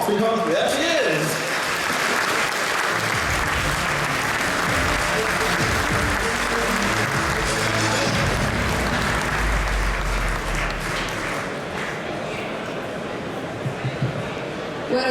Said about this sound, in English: please give her a Berlin kind of applause because there she is